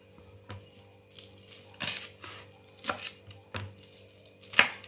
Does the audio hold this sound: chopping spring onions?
yes